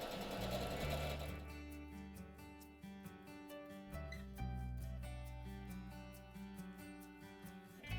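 A sewing machine stitches a quilted Santa block, its needle pumping in a fast, even mechanical rhythm with motor whine that slows and restarts a couple of times, close and alone.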